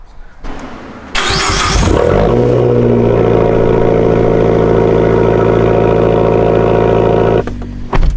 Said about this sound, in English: here's a cold start of a 2013 Fiat 500 Abarth.